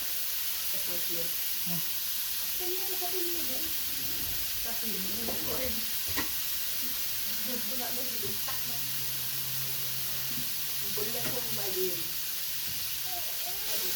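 Pork fat crisps in a dry pan with no added oil for carbonara, giving a steady close hiss of sizzling with occasional stirring scrapes while a person talks over it.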